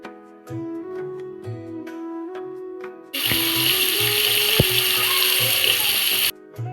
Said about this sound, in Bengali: এবার মাছ ভাজা বসিয়ে দিয়েছি